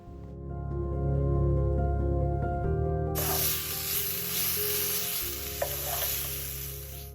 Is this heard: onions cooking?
yes